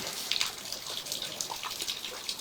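Sewer scope camera pushed through a pipe and dipping under standing water, a steady close wash of sloshing, trickling water with small splashy bursts throughout.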